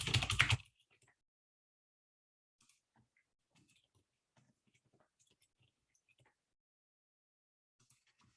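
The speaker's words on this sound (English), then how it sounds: "I'm typing all this stuff out, I know." A short loud burst at the start, then sparse, faint keyboard taps scattered across otherwise quiet seconds.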